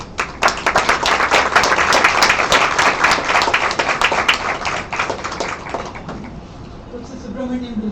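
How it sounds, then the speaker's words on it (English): A room full of people applauds steadily for several seconds at an economics lecture, then the clapping fades out and a voice begins speaking. "let's give him a round of applause"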